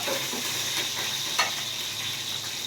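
Curry leaves crackle and sizzle in hot oil, a steady bright frying hiss with faint stirring and one sharper pop near the middle, close and without speech.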